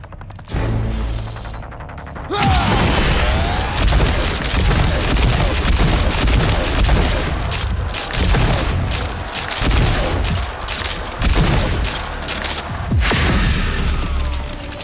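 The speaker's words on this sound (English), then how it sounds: "Use the combat shotgun's overdrive against the simulated enemies." A combat shotgun in overdrive mode fires at simulated enemies in the video game RAGE 2, producing a loud, dense barrage of booming blasts with mechanical clatter, pausing only briefly around the fourth second.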